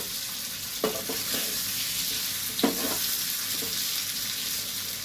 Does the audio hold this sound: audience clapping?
no